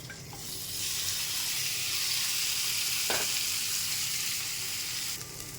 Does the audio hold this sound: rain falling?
no